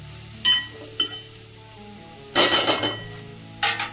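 A spatula scrapes and clinks against a kadhai in a few short bursts while mixed vegetables are stirred, with a soft sizzle between strokes.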